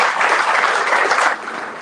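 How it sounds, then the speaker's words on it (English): An audience at an ice hockey federation blazer ceremony gives a loud, dense burst of applause for the event helpers, sustained and close before easing slightly at the end. "Let's give a big round of applause for all those people who helped make our team and our event a better"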